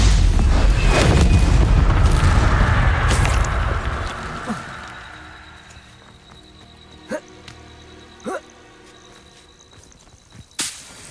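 Stupefy spell cast in Hogwarts Legacy: a loud whooshing magical burst that fades over a few seconds, followed by several sharp crackling zaps and a final snap.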